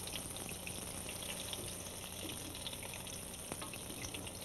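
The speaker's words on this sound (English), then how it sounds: "I'm turning the pancakes over now." Pancakes frying in a pan in a kitchen, a steady soft sizzle with faint crackles running throughout, quiet and continuous with no talking.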